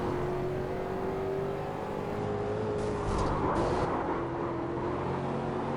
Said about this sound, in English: Listen to how late Gray stays on the throttle.